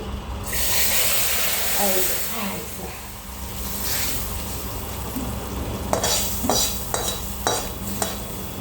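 A spice tempering for dal with spinach fries in a pan with a loud, continuous sizzle and hiss. Stirring scrapes and clinks grow busier toward the end.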